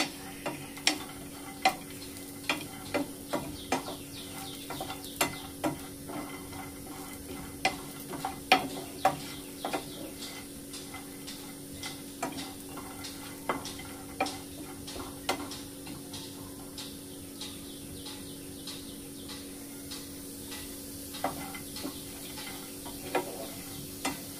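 Grated coconut dry-roasting in a pan for a mutton paya masala gives a faint sizzle, broken by frequent light scrapes and ticks of a spoon stirring at an uneven pace; no talk.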